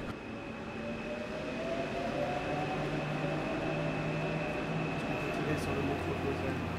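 Lausanne M2 metro train running on its sloped line, a loud steady rumble with a sustained electric whine, heard from inside the car with no one talking.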